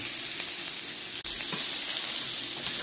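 Onion frying in a pan in the juices of andouille sausage, giving a close, steady sizzle that stays loud throughout, broken only by a momentary dropout partway through.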